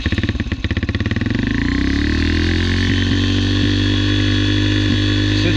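A custom Yamaha TTR125 dirt bike engine stutters to life and settles into a loud, high, steady rev on choke, a close, continuous buzzing drone with a few brief blips in pitch.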